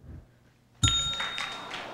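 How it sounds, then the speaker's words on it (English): A single bright bell ding at a 1997 spelling bee, struck sharply partway through and left ringing with a clear sustained tone over faint room noise. "We hear the bell"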